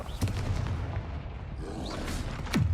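Blasting spell explosions in a wizarding video game: a few sharp, booming bursts land over a dense, rumbling background of battle noise, with the loudest blast near the end.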